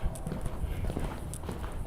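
A horse's hooves strike the arena ground in quick, rhythmic clip-clop beats while it comes back down to a trot during a show-jumping lesson, close and clear.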